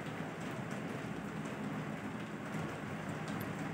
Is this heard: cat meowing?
no